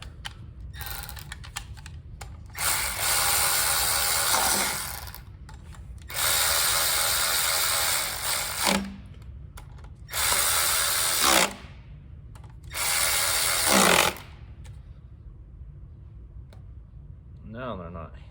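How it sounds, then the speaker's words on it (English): Milwaukee M12 cordless power ratchet whirring in four separate bursts of a couple of seconds each, close and loud, with pauses and faint background noise between them in an agricultural tech shop. "My Milwaukee M12"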